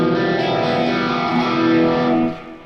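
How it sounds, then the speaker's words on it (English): Electric guitar with a flanger on a classic rock tone, a sustained distorted chord with a sweeping, whooshing swirl, loud and close before it cuts off near the end. "basically I'm adding a flanger to it,"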